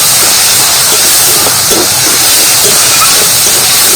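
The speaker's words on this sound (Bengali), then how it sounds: "ভালো করে ভেজে নিচ্ছি" Spices with turmeric and Kashmiri chilli sizzling in hot oil while cauliflower fries, a loud continuous hiss close by with no talking.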